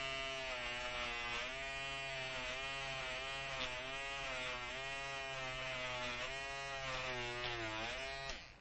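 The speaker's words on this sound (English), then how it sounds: "So on this big fill area, I'm going to use this Peggy Stitch Eraser." Close, steady electric buzz of a Peggy's Stitch Eraser shaving embroidery bobbin thread off a large fill area. The pitch wavers slightly as the tool moves, and it keeps running nearly the whole time before cutting off.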